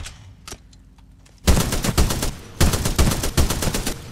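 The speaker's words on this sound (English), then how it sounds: "Machine guns are never quite meta in these games." Heavy machine gun fire in Titanfall 2, with loud, rapid bursts of close automatic shots separated by short pauses, following a few quieter clicks and faint game sounds at the start.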